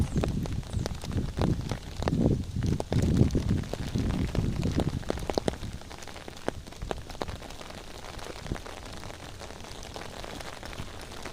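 Steady rain patters on surfaces nearby, heavier at first and then settling into a lighter, even drizzle of drops.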